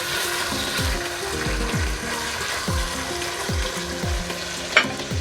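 Mutton for a rezala sizzles and fries in a pan while being stirred, with repeated scraping strokes over a steady sizzle, close and fairly loud.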